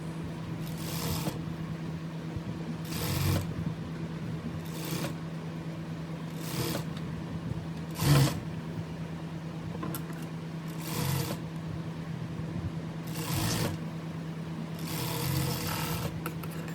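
Sewing machine stitching piping onto a blouse, running in a steady low hum with repeated short bursts of faster stitching roughly every two seconds, close and fairly quiet.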